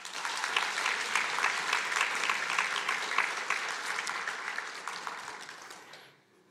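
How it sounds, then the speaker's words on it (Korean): A Korean church congregation gives a sustained round of welcoming applause during a Sunday service, a dense, even wash of many hands clapping that holds steady for several seconds and then tapers off quickly at the end. "여러분 환영의 박수를 부탁드립니다."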